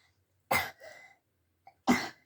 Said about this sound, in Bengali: কাশি তো লেগেই আছে না রোজ